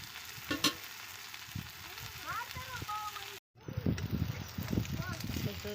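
Onions, tomatoes and chillies sizzle and crackle in a pan while being stirred, a steady frying hiss with scraping and clinking, broken by a brief cut, as a person talks over the cooking.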